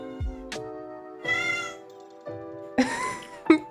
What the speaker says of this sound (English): she's a very talkative cat